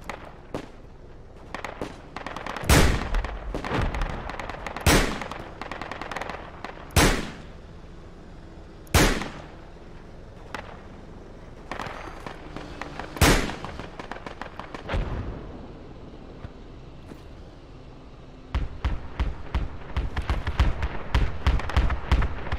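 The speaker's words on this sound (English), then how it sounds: "I hear their mortars." Distant mortar rounds thud and crack in the tactical shooter Project Reality, a dozen or so booming impacts spaced irregularly over a steady battlefield rumble, with denser rapid crackling near the end.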